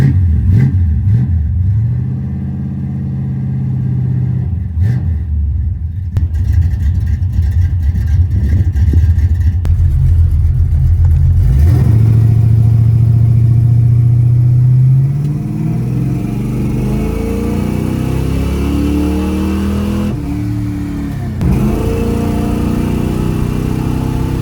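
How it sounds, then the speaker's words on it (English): A 383-powered El Camino G-body rumbles loudly through a drive, its low engine note swelling as it revs and accelerates, dipping between pulls, then climbing again with no voices. "might as well take a different G-body for a ride real quick"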